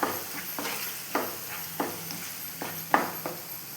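Spice masala made with Kashmiri chilli powder sautéed in a pan for pickle, a soft steady sizzle punctuated by rhythmic spatula scrapes about every half second, close and moderately quiet, no voices.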